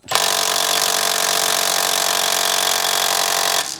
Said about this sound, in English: Let's hope my 3/8 gun has enough oomph to take this out.